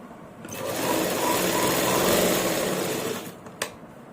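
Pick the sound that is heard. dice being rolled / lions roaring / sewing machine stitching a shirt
sewing machine stitching a shirt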